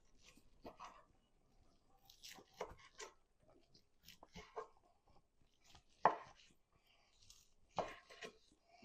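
A knife cuts through crispy deep-fried Cajun-seasoned turkey thighs, giving quiet, scattered crunching chops at an uneven pace, close by and soft.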